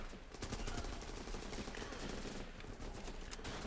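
Rapid bursts of automatic gunfire in the video game Running With Rifles, dense and continuous, with sharp crackling shots layered over one another at a moderate level throughout.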